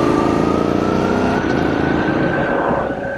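A 2019 BMW F750GS motorcycle being ridden, its engine giving a loud, steady drone with a slight rise in pitch, close and continuous throughout with no talking.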